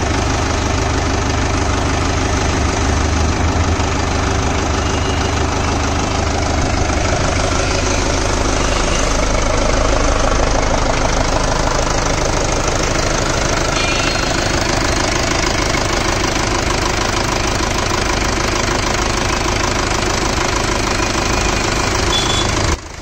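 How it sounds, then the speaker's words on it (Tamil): A Mahindra Yuvo 575 DI 45 hp 4WD tractor, 2020 model, idles steadily with a loud, knocking diesel rumble that holds constant and close throughout, with no talk over it. "இந்திய ரிவ்யூ வீடியோலையும் டிராக்டரை ஸ்டார்ட் பண்ணி காமிக்கிறேங்க."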